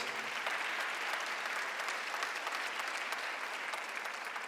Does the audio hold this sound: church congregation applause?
yes